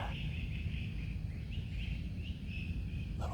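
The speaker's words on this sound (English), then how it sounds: "Little bird sounds for you." Small birds chirp outdoors at dawn, faint intermittent calls over a steady low rumble of background noise.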